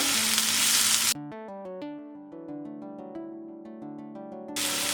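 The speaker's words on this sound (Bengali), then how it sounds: "আমি অল্প সময় নিয়ে পেঁয়াজ এবং রসুনটাকে ভেজে নেব" Onion and garlic hiss loudly in a hot pan for bitter gourd fry, the sizzle cutting off as music takes over, then returning briefly at the end.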